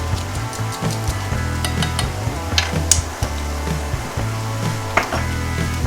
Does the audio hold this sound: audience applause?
no